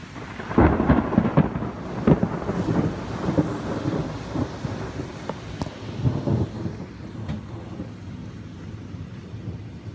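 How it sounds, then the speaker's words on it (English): Thunderstorm with heavy rain, loud thunder crashes and rumbles rolling over a steady roar of downpour, strongest early and easing toward a continuous rain hiss. "enjoy this footage that I captured of this thunderstorm"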